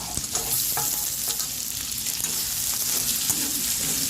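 Tomatoes sautéing in a pan of homemade masala for a chicken semi-gravy: a dense, continuous close sizzle and crackle of frying, with soft stirring, steady and loud, with no talk.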